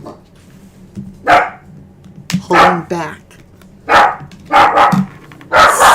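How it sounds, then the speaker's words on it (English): Several pet dogs barking indoors, excited by another dog, in sharp repeated bursts close to the microphone, while someone talks between and over the barks. "My dogs are so triggered about another dog."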